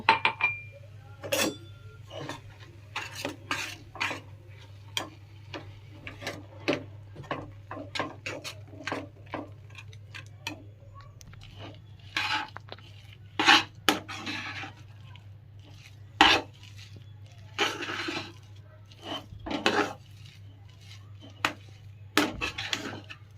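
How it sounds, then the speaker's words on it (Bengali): Semolina and flour are stirred into boiled milk, with a spoon scraping and clinking against the pot in an uneven series of short taps and scrapes over a steady low hum. Nobody speaks. "এবারে এই সুজি আর ময়দাটা দিয়ে ভালোভাবে নিয়ে নেব"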